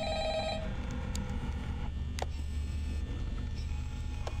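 A telephone rings inside the horror video game Five Nights at Freddy's, a repeating electronic bell tone against a steady droning game ambience, with no voices.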